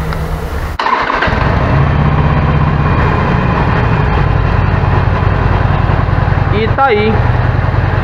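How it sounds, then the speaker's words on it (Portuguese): A Harley-Davidson Sportster 883 motorcycle with its original exhaust starts, then idles steadily and loudly up close, the engine mechanically louder than the exhaust, while someone speaks briefly over it. "Já funcionou o escapezinho original. O motor faz mais barulho do que o escapamento."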